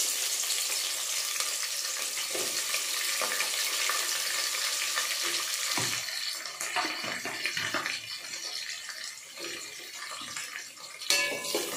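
Hot oil sizzles and crackles steadily in a pan while frying for mutton biryani, a dense hiss that later thins into softer scattered pops and spits, close by with no talk.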